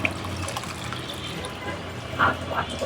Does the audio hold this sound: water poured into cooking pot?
yes